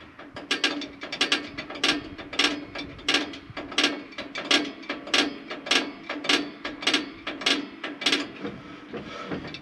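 A self-adjuster on an M1009 rear drum brake being turned, producing a steady series of sharp ratcheting clicks about once every half second, close and clear, with no talking.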